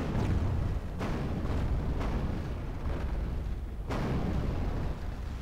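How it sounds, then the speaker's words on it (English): Fireworks in the video game Medieval 2 Total War go off as a series of about four muffled booms spaced roughly a second apart over a dense rumbling background. "It's always good at the end of a campaign to have fireworks."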